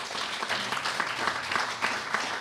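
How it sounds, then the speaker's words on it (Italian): Warm applause for an award-winning author at a literary prize ceremony, a steady wash of many hands clapping throughout with a faint voice underneath. "Facciamo un applauso caloroso all'autrice"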